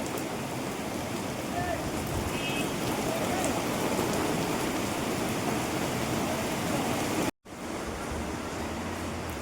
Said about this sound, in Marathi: पाऊस खूप येते.